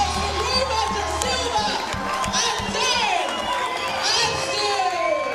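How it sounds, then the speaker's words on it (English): A crowd at a Muay Thai title fight cheers and shouts after the bout is stopped, a loud, steady roar with whoops and whistles rising through it. "You can hear the crowd going crazy."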